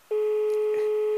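A steady, unbroken telephone line tone on an unanswered call to the Hospital de León in Spain, starting after a brief moment of quiet and holding loud and level throughout, with faint clicks and noises beneath it.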